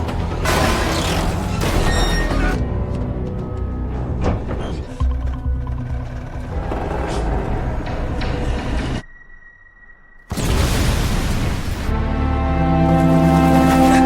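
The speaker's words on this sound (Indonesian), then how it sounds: "Andres pun mati dalam ledakan mobil tersebut." A car blows up after rolling over at the climax of the action film Retribution, heard as loud booming blasts and rumbling debris layered with dramatic score, with a brief drop to a sustained tone before the roar returns.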